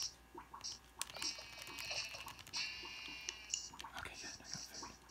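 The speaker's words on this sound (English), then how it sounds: "Sheep." Sheep bleat in the Minecraft 3DS video game, several short faint cries scattered through the scene among quiet game effects.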